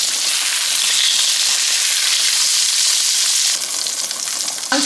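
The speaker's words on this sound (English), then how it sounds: "Let the steak cook for a minute on both sides" Steak bites sear in a hot pan with a loud, continuous close-up sizzle that shifts slightly near the end.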